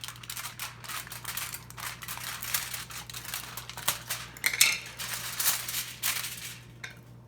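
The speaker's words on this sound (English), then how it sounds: "So the beads are all dry, and I'm going to peel them off." Melted blue plastic beads, dried into a thick, bubbly semi-transparent bowl, are peeled away, giving a steady close-up crackle of small snaps and crinkles with a few sharper ticks and no talking.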